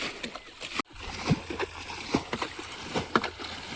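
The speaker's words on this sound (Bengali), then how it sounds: "বিরাট কায়দায় জল ছেঁচা হচ্ছে।" Water is bailed out of a pond in a wetland to catch fish, with repeated close splashes and sloshes in an irregular rhythm and voices talking faintly in the background.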